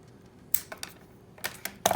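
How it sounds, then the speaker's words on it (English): Several short crisp snips of scissors cutting a candle wick, close up, irregular clicks and rustles spaced across a couple of seconds in a quiet room. "Just cut it with scissors."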